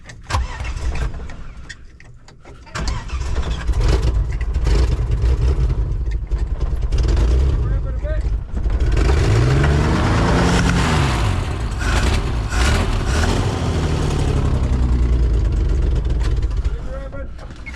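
Holden HQ one-tonner engine, loud and close, starting up and then revving repeatedly with rising and falling pitch sweeps, a rough sustained roar over several seconds while people talk nearby.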